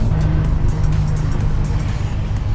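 A car rolls along the road with a steady, loud engine drone and tyre rumble heard from inside the moving vehicle, continuous with no voices.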